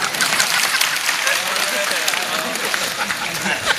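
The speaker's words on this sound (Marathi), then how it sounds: "त्यांना माहितीच नाही म्हणून टाळ्या वाजवतात ते." Dense, continuous audience applause at a kirtan led by Namdev Maharaj Shastri fills the hall, loud and close, with the clapping holding steady throughout.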